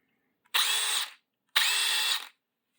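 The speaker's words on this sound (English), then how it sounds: "And then I have the DeWalt 12 volt extreme half-inch drive" DeWalt 12V Xtreme half-inch drive cordless impact wrench fires in two short, loud bursts of about a second each, separated by a brief silence, with no voices.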